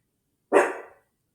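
A puppy gives a single short, sharp bark, close and alone against silence.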